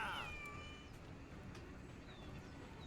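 A house cat gives a single short meow at the very start, faint and close, then only a quiet steady room hiss remains.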